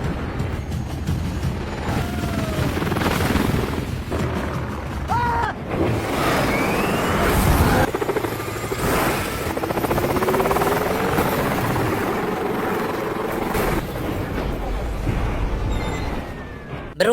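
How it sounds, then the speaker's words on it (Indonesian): In a film scene, an aircraft engine fails during an emergency landing. The loud, rough engine roar carries wavering whines and pitch sweeps, with brief bursts of noise over about seventeen seconds. "Alhasil Morales pun terpaksa harus melakukan pendaratan darurat"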